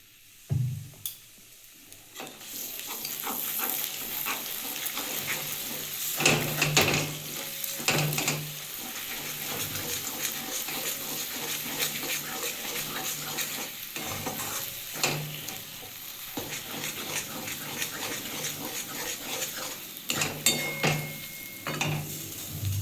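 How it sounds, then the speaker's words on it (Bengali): Fried banana stem stirred in mustard oil in a pan, a steady sizzle with scraping stirs and a few louder clacks of the spatula against the pan, no talking. "আমি এবার একটু সর্ষের তেল দিয়ে একটু নাড়িয়ে নেবো"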